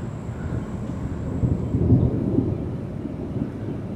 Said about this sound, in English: The thunder is coming,